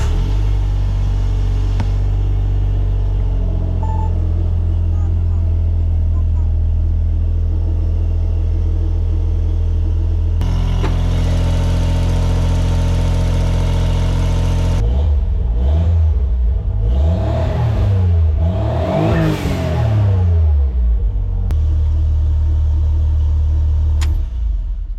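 Autozam AZ-1 kei sports car with a newly installed Monster Sport N1 ECU and HKS EVC boost controller, its small engine idling steadily nearby, then blipped through several sharp rising and falling revs before settling back to idle.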